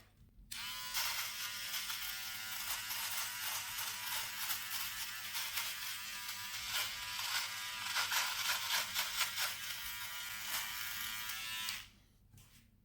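A Remington PG6021 all-in-one electric grooming trimmer runs with a steady, loud, close buzzing hum for about eleven seconds, with faint variations in tone as it works, then switches off.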